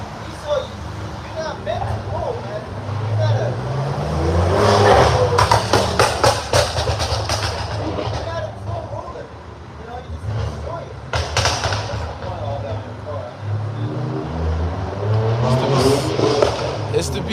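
A car's exhaust crackles and pops in sharp bursts over a loud engine rumble at a Southern California car meet in the San Fernando Valley, with people talking throughout.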